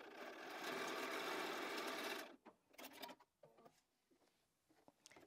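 Sewing machine stitching a quilt block seam, a fast steady whirring buzz running close and loud for about two seconds, then stopping and giving way to soft handling clicks and fabric rustles.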